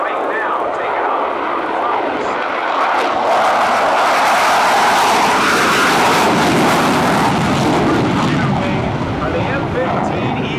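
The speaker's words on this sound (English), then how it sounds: "The F-15 Eagles." F-15 Eagle fighter jets roar loudly as they take off at an air show, a powerful rushing thunder that swells and holds, with faint crowd noise beneath.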